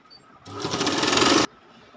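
A sewing machine runs in one steady burst of about a second, stitching the border of a quilt made from thirteen old sarees, its rapid needle clatter loud and close against a quiet room.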